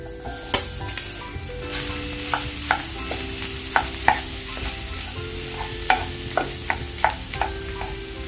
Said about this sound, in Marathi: आता हळद घेतली आहे ना ती घालते। बटाटे उकडवून कापून घेतले आहेत ना ते घालते।